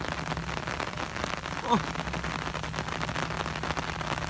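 Heavy rain pours down in Surin, Thailand, over a muddy clay work site, making a steady, even hiss with a short faint tone near the middle.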